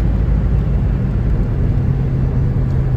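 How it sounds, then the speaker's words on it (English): A 1981 Camaro Z28 engine runs steadily with a low, throaty rumble, moderately loud and close, holding an even tone throughout with no voices. "Car's got a really nice sound to it. Not real loud, but it's got a, I hate saying it, a throaty sound."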